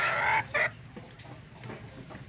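A hen, sick and being dosed with medicine, gives two short loud clucks near the start, then only faint farmyard background remains.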